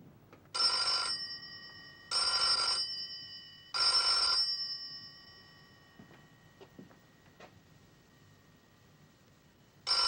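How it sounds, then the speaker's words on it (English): A telephone bell rings three times in a quiet room, each ring a loud burst of about half a second with short pauses between, followed by faint scattered noises and the start of a fourth ring. "I'll phone. Ring 3 times and hang up."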